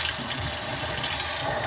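Cold water runs steadily from a kitchen tap while air is let out of the line after water damage repair, a continuous close hiss of flowing water with faint sputtering and no talk.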